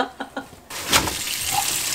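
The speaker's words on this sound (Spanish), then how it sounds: "Vamos a lavar la lechuga una vez con el agua." Tap water runs into a sink to wash lettuce for Korean kimchi, a steady broad splashing stream that starts after a few soft knocks and keeps flowing close by.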